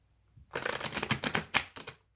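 A deck of cards is shuffled briskly, giving a dense riffling flutter that ends in a few quick snaps.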